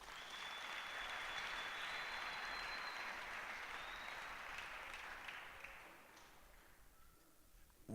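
A church congregation applauds during a sermon, a steady wash of clapping with a few whistles, heard at some distance, fading gradually toward the end.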